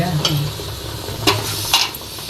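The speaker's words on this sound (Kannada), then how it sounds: "ಹಾಂ, ಎಣ್ಣೆ ಬಿಡ್ತಾ ಇದೆ. ಮಟನ್ ಹಾಕ್ತೀನಿ." Mutton frying in hot oil while being stirred, with steady sizzling and a few sharp scrapes of the spoon against the pan, heard close and alone.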